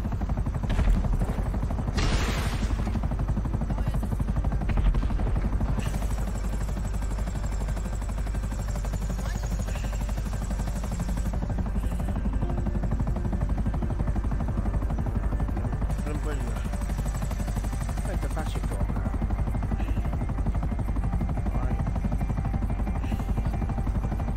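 Helicopter in GTA 5 Online chasing a blimp, its rotor and engine a steady loud drone throughout, with brief bursts of game noise and people talking over it.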